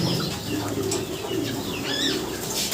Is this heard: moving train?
no